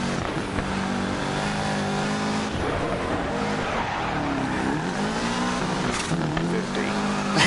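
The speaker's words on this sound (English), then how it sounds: "I'm just spinning the wheels, waiting for some kind of grip" A DiRT Rally 2.0 rally car revs hard while its wheels spin on an icy stage, the engine note rising and falling in long sustained pulls with tire noise, loud and continuous, with a voice talking over it.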